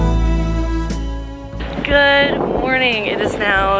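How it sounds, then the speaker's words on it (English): Strong wind buffets the microphone in Prague with a low rumbling roar, while a person talks over it and tonal, melodic sounds play throughout. "it's really windy, so I don't know how good the audio clip for this is going to be"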